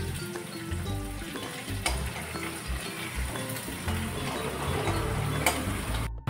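Green chillies and garlic frying in oil for Gujarati chil bhaji, a moderate steady sizzle with occasional light ticks and crackles, ending abruptly; no one speaks.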